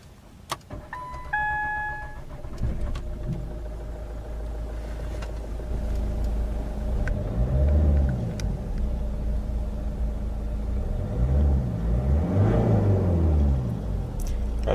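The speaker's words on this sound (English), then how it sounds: "let's power on the Kuga and see how it sounds" A 2010 Ford Kuga Zetec cranks and fires with a short starter whirr, then settles into a steady idle rumble before revving in rising and falling sweeps, with a brief key jingle near the start.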